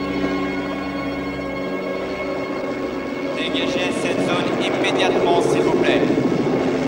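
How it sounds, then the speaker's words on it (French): A helicopter's steady low rotor drone fills the scene while an amplified voice makes an announcement in French over it, ordering the area cleared. "C'est un hélicoptère."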